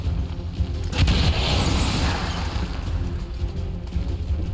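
A grenade detonates in the XCOM 2 video game with a deep, loud boom about a second in, followed by a lingering rumbling wash of debris and low noise.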